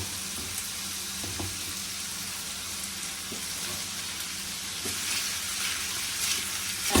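Celery hitting hot oil in a frying pot, giving a steady close sizzle that holds at an even level and swells slightly toward the end.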